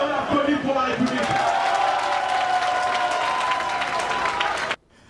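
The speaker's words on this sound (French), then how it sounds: "on applaudit pour la République" A rally crowd applauds and cheers loudly in a dense, continuous burst of clapping and shouts, ending abruptly after about five seconds.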